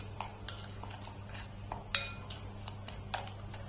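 Pitambari cleaning powder being stirred smooth and lump-free with a metal spoon, light clinks and scrapes against the bowl at an irregular pace, with one sharper ting near the middle over a steady low hum.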